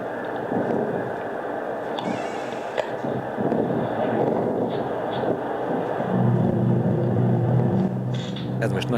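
A storm recording with a deep musical tone mixed in: wind and low rumbling throughout, with a sustained deep hum rising near the end, under a voice speaking.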